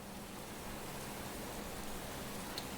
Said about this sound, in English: Let's start outside in the rainstorm.